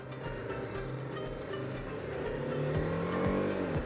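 BMW G 310 R single-cylinder motorcycle engine wound out at full throttle while riding around Seattle, a steady rough thump that climbs and swells louder, with rising revs and gear-shift sweeps near the end.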